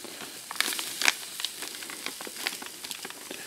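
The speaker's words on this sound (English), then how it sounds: "We're just going to mix it in the cup" An MRE vegetable lasagna mix is stirred in a cup, giving soft, irregular scraping and wet clicking sounds that are close and fairly quiet.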